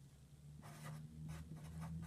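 Writing on a board during a physics lecture deriving Gauss's law, a few faint quick scratchy strokes over a low hum, no talk.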